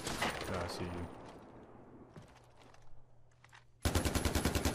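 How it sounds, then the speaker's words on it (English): An automatic gun fires in Far Cry 4 in a sharp, rapid, evenly spaced burst at the end. Before the burst, someone talks briefly over a quieter game soundscape. "Okay, time to pull out the automatic."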